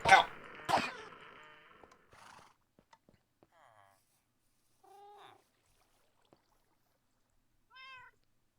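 A cat meows in a quiet indoor space: a few short, faint, spaced-out calls follow a couple of louder bumps and scuffles near the start.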